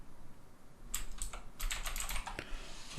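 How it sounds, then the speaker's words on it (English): Quick bursts of key clicks on a computer keyboard, closely miked in a quiet room, with a short pause midway and then more tapping. "So if I type in"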